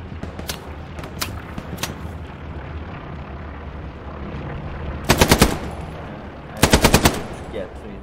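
Machine gun fire in the World War II shooter Hell Let Loose: scattered single shots early, then two loud, close rapid bursts over a constant battlefield rumble.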